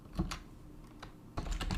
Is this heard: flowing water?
no